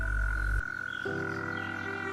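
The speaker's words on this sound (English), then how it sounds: "Toad." A toad croaks in a wildlife setting, a steady low pulsing call with a sustained tonal hum, fairly close and alone with no voices.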